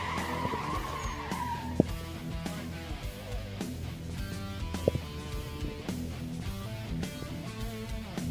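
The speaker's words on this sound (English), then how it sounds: "I see one of our drivers right now warming up his tyres." Drift car warming up its tyres at a Philippine Drift Series event, with repeated tire squeal and skidding over a revving engine, fairly distant and continuous.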